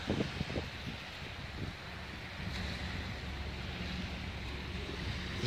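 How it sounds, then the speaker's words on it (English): Waves lap along the Columbia River shore at Kelley Point Park, a steady wash of water under gusty wind rumble, with a few louder splashes early on and no voices. "This is the Columbia River."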